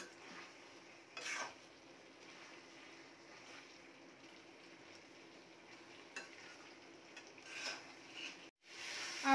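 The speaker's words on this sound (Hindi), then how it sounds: "सब्जी को हम 2 मिनट तक अच्छे से भून लेंगे" Grated raw papaya sabzi being sautéed in a pan, a soft continuous sizzle with occasional spatula scrapes and clinks, fairly quiet and close, no talking.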